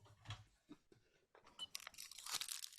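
A cat chewing on plastic, heard up close as faint, irregular crunching and crinkling bites that grow busier toward the end, with no talking over it.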